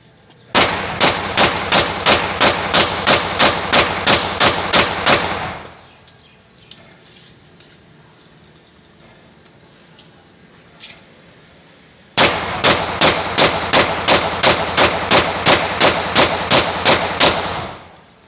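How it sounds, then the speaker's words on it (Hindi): A Beretta Inox pistol fitted with an English barrel fires two fast, evenly spaced strings of sharp, loud shots during test firing, separated by a quiet gap of several seconds; no one speaks. "इतने फायर कर रहे हैं इसको, ये टेस्ट करते हैं"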